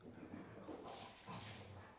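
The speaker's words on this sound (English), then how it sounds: "that's my puppy dog. She's got kind of squeaky toy" A puppy makes soft whimpering, yipping sounds while playing with a squeaky toy, two short faint bursts over low room noise.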